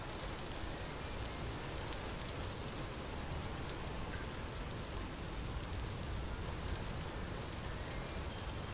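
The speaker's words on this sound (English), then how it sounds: "A lot of rain in this episode and last episode" Steady rain in the video game Vintage Story, a dense, even hiss of falling drops that continues unbroken throughout, with no voices.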